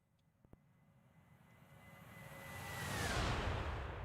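A Boeing 757 jet in American Airlines metallic livery makes a flyby in a flight simulator game, its engine roar swelling steadily from faint to loud and peaking near the end with a descending whine.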